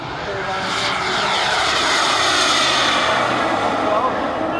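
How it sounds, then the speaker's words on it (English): Model jet aircraft with a real turbine engine flying past at an airshow, a steady loud roaring whine with a slowly shifting pitch as it passes, with a voice talking over it. "This engine runs on the same principles as those of business jets, jet airliners, and also latest modern fighter planes. It has a real turbine engine."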